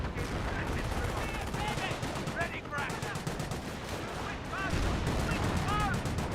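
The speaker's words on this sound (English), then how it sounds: "Bren firing away" A Bren gun in the Company of Heroes battle game chatters in rapid repeated bursts amid a busy wartime din, while someone talks over the firing throughout.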